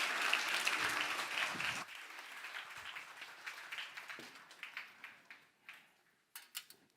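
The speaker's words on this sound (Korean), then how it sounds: "우리 정 목사님 나오실 때 큰 박수로 맞이하겠습니다" Church congregation gives loud applause to welcome a pastor to the lecture, a dense burst that stops suddenly after about two seconds, followed by scattered, fading individual claps in a quiet hall.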